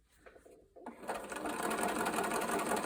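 Domestic sewing machine stitching a seam on jeans, starting after faint handling noises and building to a close, steady mechanical whir that runs to the end.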